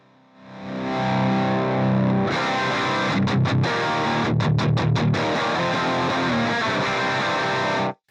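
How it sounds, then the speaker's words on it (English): Distorted electric guitar through a cranked JCM 800 amp model with power amp distortion on an Axe FX, playing loud sustained chords with a few rhythmic stabs for several seconds before cutting off abruptly. "with an amp like the JCM 800, you want to crank the master volume up on this thing and get some power amp distortion happening"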